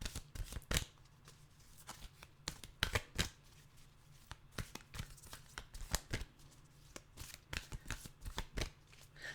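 Oracle cards being shuffled by hand before a card is drawn, a run of crisp riffling and slapping bursts at close range, fairly soft, with no talking.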